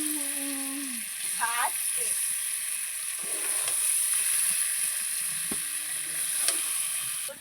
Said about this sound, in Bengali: সবগুলোকে এভাবে ভালো করে মিশিয়ে নাড়াচাড়া করতে হবে